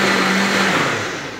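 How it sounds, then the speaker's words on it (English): A Vitamix blender whirs through marinara sauce, a loud, steady high-pitched grinding whine that holds briefly and then fades slightly toward the end. "So I'm going to put it onto the Vitamix, put it on the blender,"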